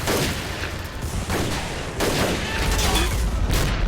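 Artillery shells and rifle fire crackle back and forth in Men of War: Assault Squad 2 during a WWII banzai charge on US Marines at Saipan 1944, a continuous dense battle din with repeated booms and volleys.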